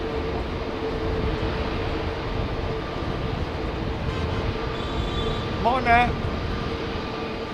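An airliner at Heathrow Airport produces a steady, broad roar that holds throughout, while people speak briefly nearby.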